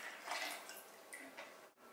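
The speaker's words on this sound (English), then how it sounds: "let's take our 1 liter of water and pour it into this container" One liter of water is poured into a container, a soft, fairly faint splashing and trickling that runs steadily for a couple of seconds before a brief drop-off.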